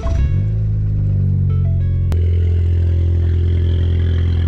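A hybrid-turbo Ford Fiesta ST fires up with a clattering crank, then a loud, deep droning idle with a sharp click partway through, the engine rough and booming up close, no voices.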